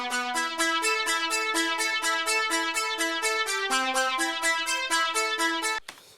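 A bright Ableton Live Wavetable synthesizer arpeggio repeats rapid, evenly spaced notes in a looping pattern, shifting pitch midway, then cuts off abruptly.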